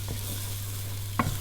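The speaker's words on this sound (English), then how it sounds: "We're just going to cook that till the onions go translucent" Onions and sage frying in a pan for beef and vegetable stew, a soft steady sizzle under a low hum, punctuated by two brief utensil knocks, with no speech.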